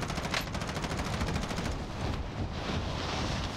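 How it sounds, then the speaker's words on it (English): Automatic gunfire from Call of Duty Warzone comes in rapid, repeated bursts at fairly low level, a fast string of shots that fades into gritty noise. "I'm gonna try to shoot this guy."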